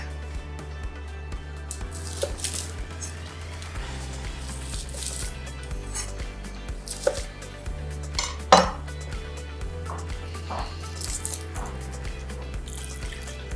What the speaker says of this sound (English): I'm just gonna prep my shallots and garlic